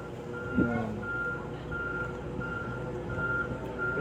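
A large truck reverses in a residential subdivision in San Pedro, Laguna, its backup alarm beeping at a steady regular pace over engine rumble, with a voice speaking nearby.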